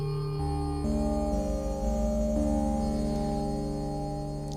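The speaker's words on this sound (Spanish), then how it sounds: "se escucha bien ese timbre característico de la distorsión digital" Behringer Wave synthesizer playing low notes with a gritty digital distortion timbre, sustained buzzing tones stepping between pitches, steady and moderately loud with no talk.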